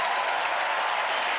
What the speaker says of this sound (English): Let's give Hannah a nice round of applause.